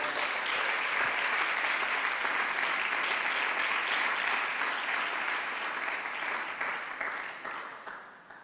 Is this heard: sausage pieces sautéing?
no